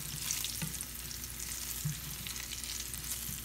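White cumin seeds sizzle steadily in hot ghee for a tempering over whole black masoor dal, a continuous close crackling hiss with a few soft knocks, no voices.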